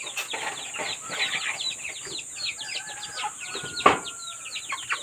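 Several chickens, including two large birds, clucking and chirping near a backyard coop in the Philippine countryside, with busy overlapping calls and a few sharp bursts throughout.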